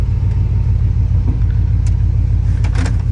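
A Chevy plow truck's small-block engine idles steadily close by, a deep even rumble with a slightly rough, cold-running note and no talk over it.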